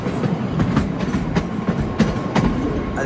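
The Shivalik Deluxe Express running at night between Shimla and Kalka: steady wheel rumble and a rhythmic clickety-clack of rail joints, with repeated short metallic clicks from close by, continuous throughout.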